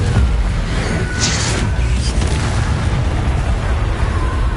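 A Confringo fire spell explodes in Hogwarts Legacy, a loud rumbling boom with a dense low roar that holds steady throughout and a brief crackle near the start.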